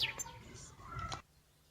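A nightingale's song performed in a school play: a few quick, high chirps at the start, then softer warbling over a hall's background murmur, fading out near the end.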